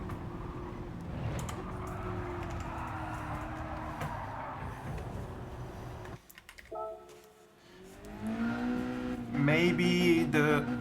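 A Mazda Roadster NR-A '22 engine drones at Suzuka in Gran Turismo 7, a steady high rev tone that drops sharply on downshifts, then rising blips and rev climbs, loud and close with no talking.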